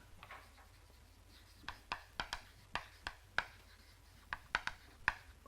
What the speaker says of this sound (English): But now I write down the